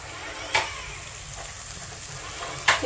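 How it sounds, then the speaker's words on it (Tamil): Chana dal, urad dal, dried red chillies and curry leaves sautéing in a pan for idli, a soft steady frying hiss broken by two sharp crackles, close by with no talking. "கடலை பருப்பு, உளுத்தம் பருப்பு, இந்த வத்தல் மிளகாய், கருவேப்பிலை எல்லாம் வதங்கிட்டு"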